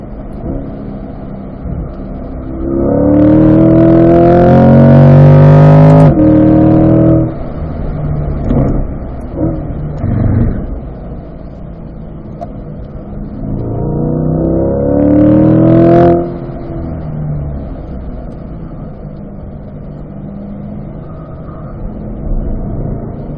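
A Corvette C8 Stingray on a race track during a performance driving school lap, its engine rising loudly in two strong acceleration pulls with a throatier drop between them, heard from inside the car.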